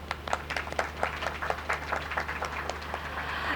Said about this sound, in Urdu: ان کے لیے بے پناہ تالیاں پلیز